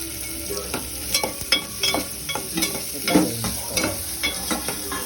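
Chopped onions fry and sizzle in a pan over a medium flame, with a steady hiss broken by repeated scraping stirs of a spoon, close and fairly loud.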